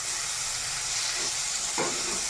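Chopped cabbage and vegetables dropped into hot oil seasoned with chilli and salt, a continuous sizzling hiss that swells briefly as more goes into the pan.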